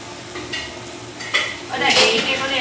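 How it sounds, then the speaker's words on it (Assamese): A spoon scrapes and clinks against a cooking pot while turmeric and spices are stirred in for a duck curry, with a light sizzle under a few close metallic stirring strokes. "আৰু এতিয়া ইয়াতে দি দিছোঁ হালধি এতিয়া এইখিনি এনেকৈ অলপ দেৰি লৰাই দিম"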